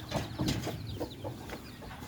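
Hens and newly hatched chicks on a farm cluck, a hen giving soft repeated clucks nearby while small calls from the young chirp intermittently around her.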